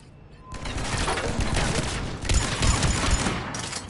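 Dense gunfire from the video game Mass Effect 3 erupts after a brief quiet moment, a continuous barrage of rapid shots that stays loud for several seconds.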